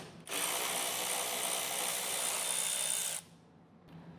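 A power tool spins out 10mm core support bolts on a 2024 Ford, one steady buzzing whir of about three seconds, close and fairly loud, stopping abruptly, followed by quiet shop ambience.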